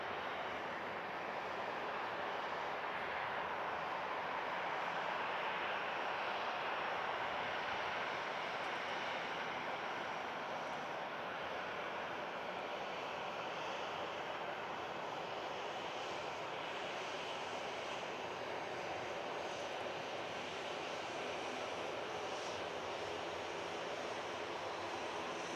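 Airliner departing Manchester Airport: a broad, steady jet roar sustained throughout, fairly distant and even in level, with no talk.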